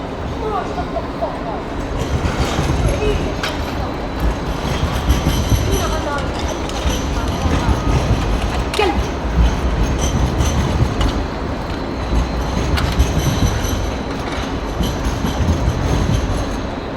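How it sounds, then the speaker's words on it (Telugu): Sydney light rail trams on the L3 Kingsford line rolling past at steady volume, a continuous low rumble with wheel and rail noise over outdoor city ambience, with voices talking throughout. "ట్రామ్లు వెళ్తున్నాయి."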